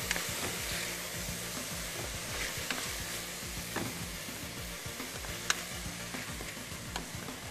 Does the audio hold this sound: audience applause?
no